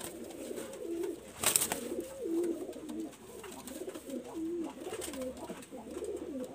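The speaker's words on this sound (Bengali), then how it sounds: "খুবই ছটফটি একটা অ্যাক্টিভ একটা নর কবুতর" Active male pigeon cooing close by, a series of low throaty rising-and-falling coos repeating about every second or two, with a short sharp noise near the start.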